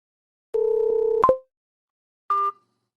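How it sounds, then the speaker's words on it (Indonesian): A telephone is slammed down during a drama: a steady electronic tone sounds, then a sharp plastic clack of the handset, and a brief second tone follows after a pause, all close and clean. "Ethan baru saja membanting telepon padaku."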